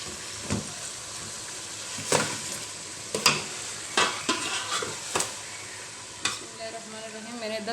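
Beef with salt and spices cooks in a pot for haleem, a soft continuous sizzle broken by repeated sharp scrapes and knocks of a spoon stirring, close and fairly quiet.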